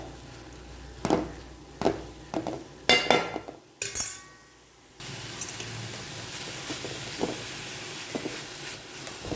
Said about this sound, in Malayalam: ലോ ഫ്ലെയിമിൽ വെച്ച് കുറച്ച് സമയം ഇതേപോലെ ഒന്ന് ഇളക്കി കൊടുക്കുന്നുണ്ട്